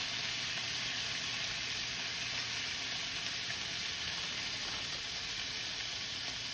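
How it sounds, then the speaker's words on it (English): Moose steaks sizzle steadily in a hot pan with mustard and maple syrup, a dense, constant crackling hiss up close that holds without pause. "You want to hear that sizzle to get that crust happening"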